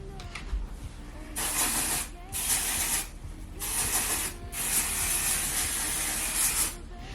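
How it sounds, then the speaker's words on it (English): Several bursts of dry shampoo sprayed from an aerosol can onto hair roots, a close, steady hiss in four long pulses separated by brief pauses. "I grab some dry shampoo, and then I just go through my roots with it"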